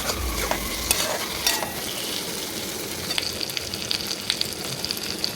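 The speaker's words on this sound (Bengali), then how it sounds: "নাড়িয়ে নেওয়ার পরে টমেটো কুচিটা দিয়ে দিচ্ছি এটার মধ্যে। এটাকে নেড়ে নেবো কিছুক্ষণ।" Potato and pea curry with chopped tomato is stirred in a pan, a steady close sizzle of frying running throughout with scraping spoon sounds over it and no talking.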